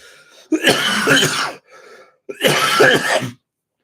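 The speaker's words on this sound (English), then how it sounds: "That cough is bothering me so much less than what it was before." Two loud, rough coughing fits close by, each a burst of harsh throat-clearing coughs, separated by a quiet breath.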